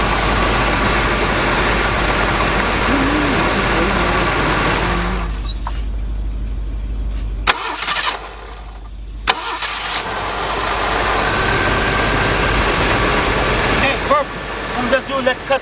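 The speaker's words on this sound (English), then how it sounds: "I'm going to shut the car off. We're going to see the battery starts up and start the car by itself." A 1986 Mercury Marquis with a 3.8 engine idles steadily, then shuts off to near quiet before short starter bursts, and the engine catches and runs again near the end. Someone talks over parts of it.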